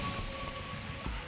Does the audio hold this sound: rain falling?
yes